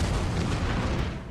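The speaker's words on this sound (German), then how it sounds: "kam schon die zweite Explosion." A single sustained, rumbling blast from an explosion on the Deepwater Horizon offshore oil platform, loud and broad, heard alone without speech.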